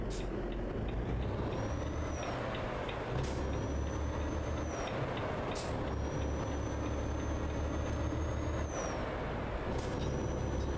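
Bus in the Euro Truck Simulator 2 driving game, with repeated sharp air-brake hisses and tonal squeals over a steady engine and traffic rumble, loud and fairly close.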